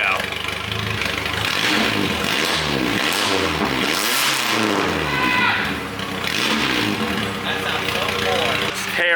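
A Suzuki Wagon R with its exhaust pipe cut off runs loud and raw, its engine note rising and falling with blips of revving, up close, while people talk over it.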